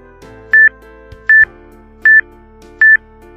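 A Zoomax Snow 7 HD video magnifier gives four short, clear electronic beeps in an even rhythm, close and alone against faint background hum.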